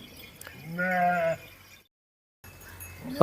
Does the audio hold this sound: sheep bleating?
yes